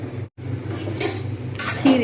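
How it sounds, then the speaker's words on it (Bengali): A metal lid goes onto a cooking pan of Bengali cabbage curry, giving a few close clinks and scrapes of pot and lid over a low kitchen hum, with brief speech underneath. "তাই আমি এখানে ঢাকনা দিয়ে দেবো"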